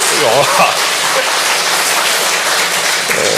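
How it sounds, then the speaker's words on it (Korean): A church congregation applauds together at a Sunday service, a dense, steady wash of clapping that stays loud and even throughout, with a few voices mixed in. "박수 치시죠"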